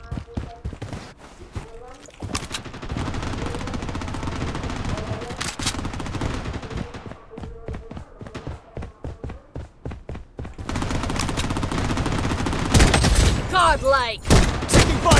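Desert Eagle pistol fire in the shooter game Blood Strike, heavy gunshots ringing out in bursts over dense battle noise, with game announcer callouts and a voice talking over the action.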